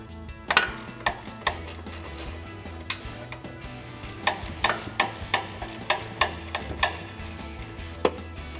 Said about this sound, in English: I'm just going to grab a 12 millimeter ratcheting wrench.